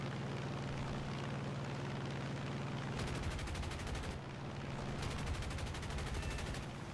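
Rapid machine-gun bursts from a P-47D-28 fighter in a War Thunder air battle, two sustained volleys of dense, rhythmic firing over a steady droning engine, loud and close.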